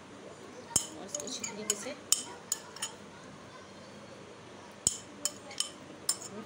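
Spoon clinking against a bowl while yogurt is whisked into fruit chaat, a run of sharp metallic taps arriving in two bursts amid soft scraping, with someone talking over it.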